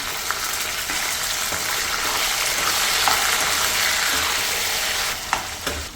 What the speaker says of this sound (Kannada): ಬದನೆಕಾಯಿ ಸ್ವಲ್ಪ ಚೆನ್ನಾಗಿ ಫ್ರೈ ಆಗಲಿ, 1-2 ನಿಮಿಷ.